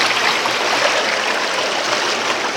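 A flooded river overflows its banks during Typhoon No. 7, with swollen water rushing in a loud, steady broadband roar that stays constant and close throughout, with no voices.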